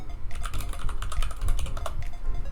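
Rapid, uneven keystrokes clatter on a computer keyboard while someone fills in a spreadsheet, close and fairly loud, with no voices.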